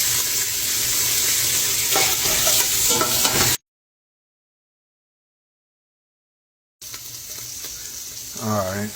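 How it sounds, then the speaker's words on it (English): Andouille sausage sizzles and spatters in a hot gumbo pot, a dense steady frying hiss with occasional stirring clatter, broken by a gap of silence before the sizzle resumes loudly. "Got some andouille, whatever these type of sausage. They going into our pot."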